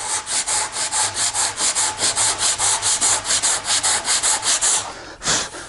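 Coarse 36-grit sandpaper scrubbing over dried wood filler on a wooden surface being repaired before painting, a steady rhythmic back-and-forth rasp of close, loud strokes that stops briefly near the end.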